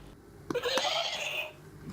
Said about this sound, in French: C'est le cheval.